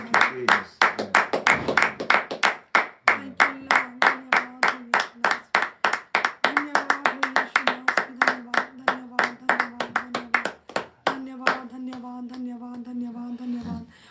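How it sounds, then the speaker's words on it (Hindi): Congregation at a Friday prayer service clapping loudly in a fast, steady rhythm, many hands in unison, with a sung or chanted voice and sustained tones running underneath, the claps thinning toward the end. "जोरदार ताली से हालेलुया"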